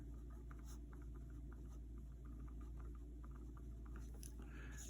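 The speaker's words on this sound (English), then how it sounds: "So I'm going to write name of conversion right here." Faint scratchy strokes of writing on paper or a board, marking out a stoichiometry mole-ratio lesson, come in short irregular bursts over a low constant hum.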